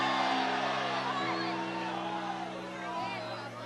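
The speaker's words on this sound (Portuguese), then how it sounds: "Posso ouvir mais um grito de glória a Deus aí?" A church congregation lets out a loud, sustained shout of praise to God, a dense crowd roar with scattered whoops filling the room over a steady sustained keyboard chord.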